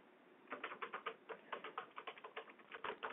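Quick, uneven bursts of keystrokes on a computer keyboard, clattering steadily for about three seconds at close range but quietly, with brief pauses between words and no talking.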